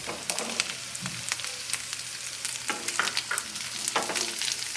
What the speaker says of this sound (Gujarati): કાંદાને આ રીતે એની સાથે મિક્સ કરી દઈશું